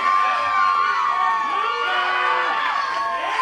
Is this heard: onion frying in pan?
no